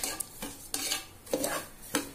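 Broken wheat being stirred and roasted in a pan, a spoon scraping in four or five separate close strokes with faint rustling between them.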